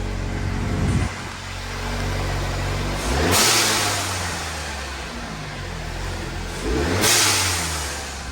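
A Mustang car engine fitted with an MPX intake tube revs up and down, with breathy whooshing bursts from a blow-off valve after a few throttle pushes.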